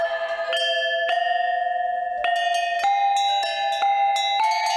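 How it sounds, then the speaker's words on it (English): Large bells sound in a chain of bright, sustained metallic tones, each new strike layering fresh ringing pitches over the fading ones, about eight strikes in under five seconds, loud and close with no voices. "and a chain of large bells."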